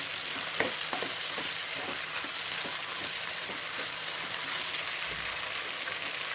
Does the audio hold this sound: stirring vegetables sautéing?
yes